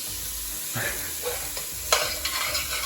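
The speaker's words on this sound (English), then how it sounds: "they're sizzling away, and now the celery is going in" Vegetables for a hearty homemade chicken soup sizzling in a pot as celery is tipped in, a constant close frying hiss with soft stirring thumps and scrapes and no talk.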